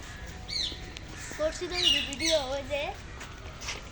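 Parrots in an enclosure at Chattogram zoo give harsh, rising squawks and calls, a few close bursts over soft background noise.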